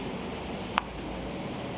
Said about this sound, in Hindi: पूरा गिल्ला हो गया भाई, इतनी तेज़ बारिश हो रही है।